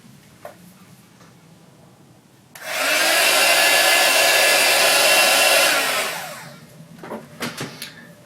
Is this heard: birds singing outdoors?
no